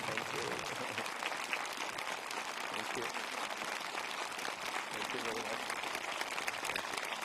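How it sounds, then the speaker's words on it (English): A large audience at a peace prayer ceremony claps steadily in a dense, sustained round of applause that holds at an even level from start to finish, with no pause. "Please give them another big round of applause."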